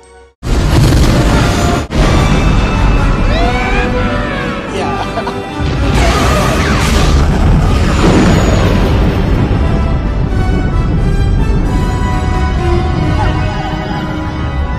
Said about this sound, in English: I'm going to shoot the gun that hits everyone now